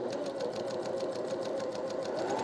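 A sewing machine runs steadily, stitching pieced quilt fabric along the short sides of the pieces, with a fast, even mechanical whir and needle rhythm, close and continuous with no talking.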